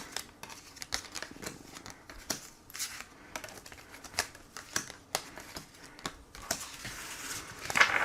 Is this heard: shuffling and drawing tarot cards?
yes